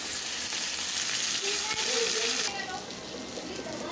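Steady frying sizzle from a hot pan of potatoes, a dense hiss that softens midway as a wet paste is added, with light stirring.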